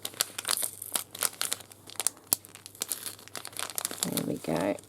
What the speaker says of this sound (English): in this little bag, I like these little bags, so I'm trying to be careful not to rip them at all